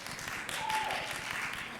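Audience at a school board workshop claps together, a dense steady patter of many hands that runs the whole moment at moderate distance, with no one speaking over it.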